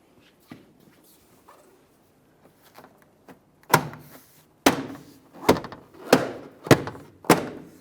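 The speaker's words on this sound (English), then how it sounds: "align each one of those push clips and then press the door panel into the proper position" A few quiet knocks, then a series of loud, sharp thumps spaced about half a second apart as a Chevrolet Trailblazer rear door panel's push clips are pressed firmly into place.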